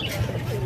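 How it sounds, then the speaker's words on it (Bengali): Pigeons coo briefly at a busy bird market, a short low warbling call over crowd murmur and background bustle, near and fairly clear. "এদিকে দেখেন, বিভিন্ন ধরনের কবুতর আছে।"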